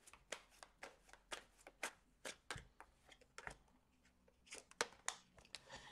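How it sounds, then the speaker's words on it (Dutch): A deck of cards is shuffled for a weekly horoscope reading, giving a series of quick, soft riffling snaps at an uneven rhythm with short pauses, close and quiet with no speech. "Dan de kaarten schudden om te kijken wat deze week voor jou gaat brengen."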